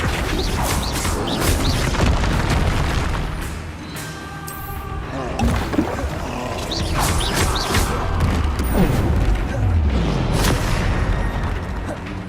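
Spell blasts and explosive impacts from Confringo and Flipendo in the Hogwarts Legacy video game, a dense run of booms, crashes and mechanical clatter with brief lulls, loud throughout.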